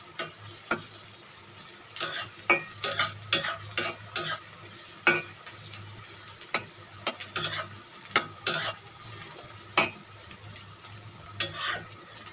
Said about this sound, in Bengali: পেঁয়াজগুলোকে নেড়ে চেড়ে বাদামি রং করে নিতে হবে।